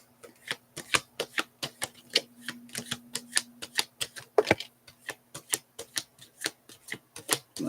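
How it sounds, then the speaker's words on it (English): Tarot cards are shuffled in a steady run of soft, crisp ticks and riffling clicks, close and quiet, with a faint constant hum underneath. "I can feel the energy of the shuffle."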